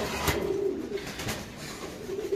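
A pigeon at a market stall for pigeons gives a soft, low coo against a faint background hum, quiet and fairly close.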